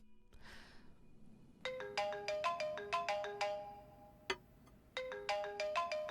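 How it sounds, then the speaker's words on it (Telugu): A mobile phone rings with a call from home, playing a bright, repeating melodic ringtone in short bursts of tones that stop and restart, fairly close and clear, with no talking over it. "ఇంటి నుంచే ఫోన్ వస్తోంది"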